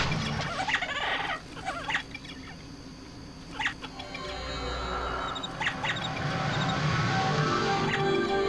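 Big chickens in a video game cluck and squawk repeatedly at mid distance, layered over a constant game background din, with no talking.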